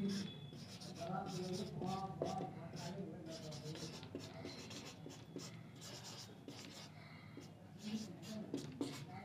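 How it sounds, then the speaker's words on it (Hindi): A pen scratches across paper as a sentence is written by hand: soft, close, continuous scraping strokes with small pauses, quiet overall and accompanied by low talk. "चलिए लिख देता हूं, इसके बाद समझिए।"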